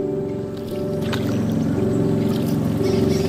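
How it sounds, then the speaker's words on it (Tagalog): A motorized boat engine drones steadily at close range, a loud, continuous low hum with a rough, throbbing texture and some water noise on top, running without pause. "Tsaka may paparating na motor na bangka."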